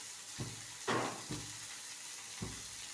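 Garlic sizzles and fries in hot oil in a home kitchen alongside onion and radish, a steady crackling hiss broken by a few soft stirring scrapes, close and fairly quiet.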